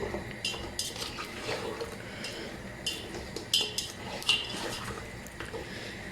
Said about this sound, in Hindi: मैं शामिल करूँगी टमाटो पेस्ट और इसके साथ मिक्स कर लूँगी।